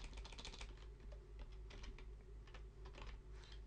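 Rapid typing on a computer keyboard, with a steady run of close, light key clicks in irregular bursts over a constant low hum.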